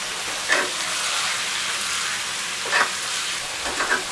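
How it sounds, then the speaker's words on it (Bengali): Mixed vegetables such as potato, pointed gourd, ridge gourd, snake gourd and sponge gourd stir-frying over medium heat, a steady hissing sizzle broken by a few louder spatula scrapes, close and without talk. "সবগুলো সবজি 5 মিনিট মতো আমি কষিয়ে নিব।"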